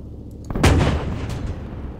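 A StuG III tank gun fires a single heavy shot in Arma 3, a deep booming blast with a rumbling tail that lingers under low background noise.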